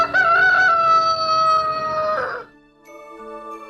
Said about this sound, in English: When dawn came, the rooster woke. As usual, he crowed very loudly.